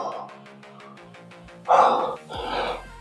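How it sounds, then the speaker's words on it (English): A person yawns during a rest between workout sets, a drawn-out breathy, voiced yawn that swells loud and close, then trails into a second exhale, preceded by faint tonal background. "Just yawned."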